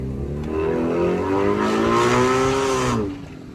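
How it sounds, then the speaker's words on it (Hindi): A car engine revs steadily up and then drops back, a loud, close, sustained drone lasting about three seconds over continuous low background noise. "तो गाड़ी की आवाज आपको आगे चल के सुनाता हूँ।"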